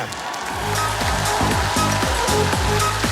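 Dense, continuous applause from a stand-up comedy audience in a Lviv hall, a loud roar of many hands clapping steadily that sounds almost like rushing water, with no voices on top.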